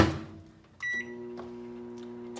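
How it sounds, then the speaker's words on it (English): A microwave oven heating food wrapped in a paper napkin starts with a beep and settles into a steady low hum, with faint clicks over the running drone. "Simply wrap your food in your napkin, place it in the microwave."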